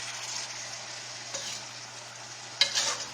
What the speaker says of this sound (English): We're mixing our onions in with our meat.